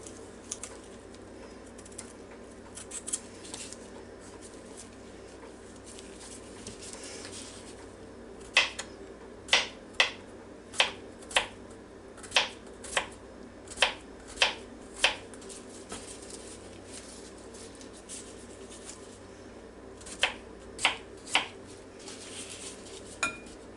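Knife slicing a large peeled cucumber thinly on a board, a run of crisp, evenly spaced chops in two bursts, clear and close over quiet kitchen background.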